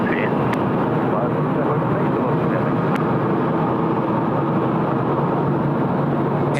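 An airliner rumbles on the runway at Sydney Airport, a broad steady engine roar held at moderate distance throughout, with voices talking over it.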